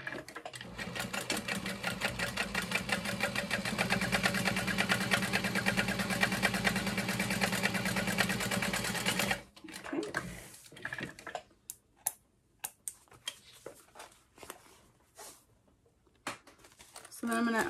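A sewing machine top-stitches a vinyl wristlet clutch through the zipper and back panel in a long, loud, steady rapid run. It stops abruptly, followed by scattered clicks and rustles of handling the work.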